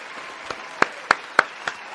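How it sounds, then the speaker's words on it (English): About six spaced, sharp claps from a single pair of hands, evenly paced and fairly close, over a quiet background. "let me give a round of applause real quick"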